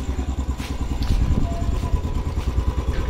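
A modified motorcycle engine runs close by, a steady, rough mid-pitched idle with uneven pulsing and slight revving throughout, loud and unbroken.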